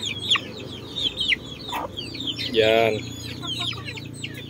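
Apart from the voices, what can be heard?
hen clucking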